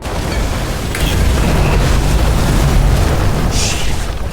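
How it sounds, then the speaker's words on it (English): Fuses blowing in a dark sci-fi detective game: a sustained low rumbling boom with a sharp burst near the start and a brighter crackling pop toward the end, loud and close, no voices. "Fuses just blew."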